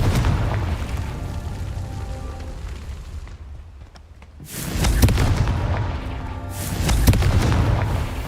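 Explosive Confringo spell blasts in the Hogwarts Legacy video game: a long rumbling boom fades into a lull, then two more heavy explosions erupt in quick succession, loud and close with low, roaring tails.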